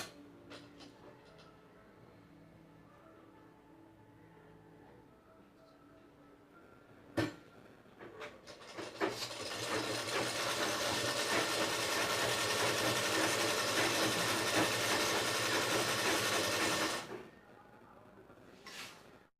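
An electric sewing machine stitches fabric for a neck design, its steady whirring run building up loud and continuous for several seconds before stopping abruptly, after a few light clicks and handling sounds.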